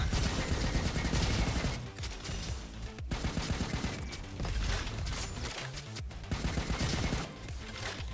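Tommy gun fire in the shooter game Roboquest, long rapid bursts of automatic shots broken by short pauses, loud and close with no voice over them.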